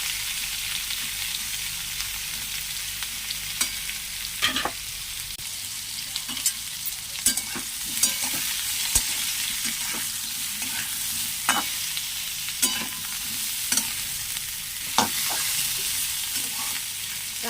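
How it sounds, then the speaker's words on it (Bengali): Parboiled jackfruit fries and sizzles in a hot wok, a continuous close hiss broken by irregular scraping clicks of a stirring spatula throughout. "কড়াটা এবার গরম হলেই তাকে হালকা করে ভেজে নেব"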